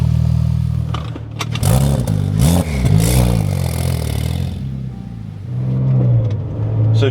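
A Porsche engine runs with its exhaust valves open and the cold start switched off, giving a loud, close, deep rumble that swells with several revs before settling to a steadier idle.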